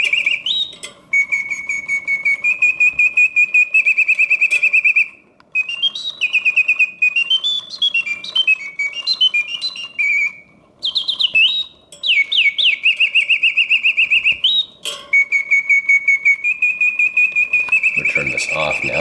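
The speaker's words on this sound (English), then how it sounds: "a vintage 1971 Reuge double singing bird cage" A vintage 1971 Reuge double singing bird cage automaton whistles and trills loudly and steadily, its mechanical birdsong warbling in long phrases broken by brief pauses.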